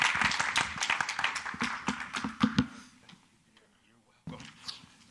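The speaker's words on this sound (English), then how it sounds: "let's give a big round of applause for the Reverend Dr." Applause for Reverend Dr. John Carn at a Sunday church service, dense clapping for about three seconds before it fades into quiet, with a brief burst of voices near the end.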